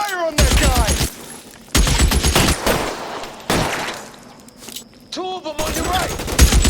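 Gunfire in a shootout in the video game LA Noire: several loud bursts of shots interrupted by shouting, with voices talking and yelling between the volleys.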